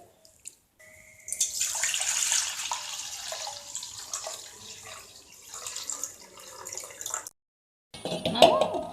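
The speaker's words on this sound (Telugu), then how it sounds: "కొద్దిగా వాటర్ తీసుకొని గిన్నె ఈ విధంగా కదిలిస్తూ ఉంటే" Black gram being washed in a bowl with a little water, swirled and sloshing in a steady wet churn for several seconds, then a brief pause and a louder splash at the end.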